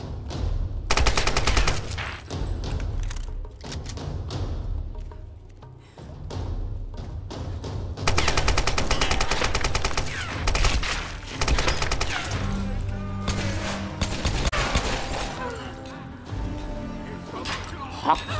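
Video game gunfire in Tomb Raider: loud, rapid bursts and volleys of shots crackling throughout, layered with thuds and other game effects, with voices talking over parts of it.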